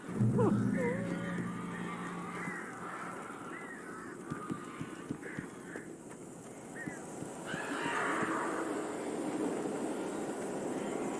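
Eerie cawing and honking bird calls in the Alan Wake Remastered video game, several irregular cries at middle distance over a low rumbling ambience, with a louder swell of calls near the end.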